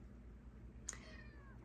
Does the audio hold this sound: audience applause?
no